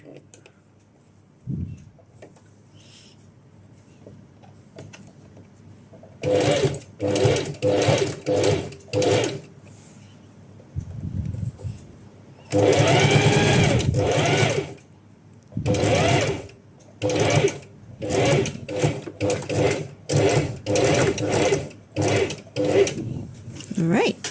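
A sewing machine top-stitches a garment during a clothing alteration, running in a series of short, steady bursts separated by pauses, close and clear with a quiet moment of handling before it starts.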